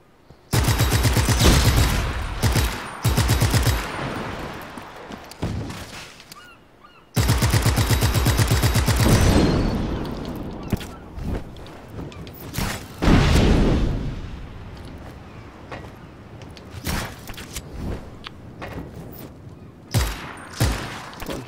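A gun is fired, giving loud, close bursts of rapid blasts that start and stop abruptly, with scattered single shots and rumbling echoes between the bursts.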